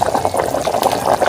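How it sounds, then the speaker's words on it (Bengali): Chicken curry with ground spices bubbling hard in a handi pot over a stove, a steady close, loud churning boil with continuous gurgling and popping and no talk. "বন্ধুরা দেখুন টকবক করে ফুটছে।"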